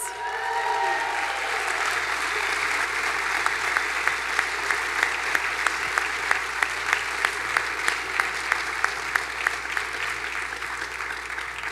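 An audience claps through a long steady round at a school district recognition breakfast honouring retiring staff. Within the crowd one near clapper's sharp, even beat stands out.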